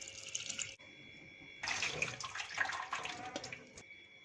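Water poured into a bowl of flattened rice to soak it, a soft splashing pour that stops briefly and then resumes, close and fairly quiet, with no talking.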